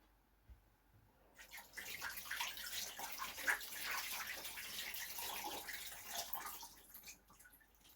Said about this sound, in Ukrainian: Зараз зливаю воду, промиваю і буду викладати у форму.